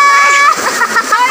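Water splashes loudly at a waterfall as people play in it, a short burst of splatter and sloshing mixed with excited voices close by.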